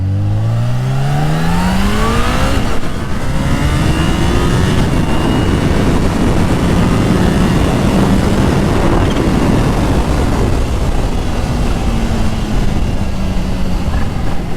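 A 231 hp Kawasaki Ninja H2 Carbon engine revs up through rising gear pulls while riding on back roads, loud and close with heavy wind roar throughout.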